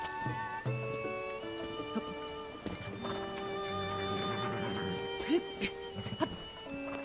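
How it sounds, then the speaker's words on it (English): A horse in the video game Zelda: Tears of the Kingdom, with game music playing throughout. Near the end the horse gives a couple of brief snorts and whinny-like calls under the music, and there is no talk. "Dumb horse."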